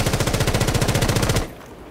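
Sustained fully automatic rifle fire in Rainbow Six Siege, a steady rapid stream of loud, evenly spaced shots lasting about a second and a half before stopping abruptly into quiet room tone.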